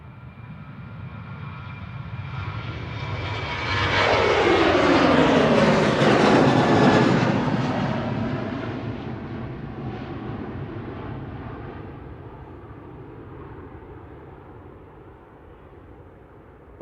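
Ryanair Boeing 737-800 jet airliner departing Manchester Airport, engine roar building from a distance to a loud peak as it passes, then fading away slowly, with no talk.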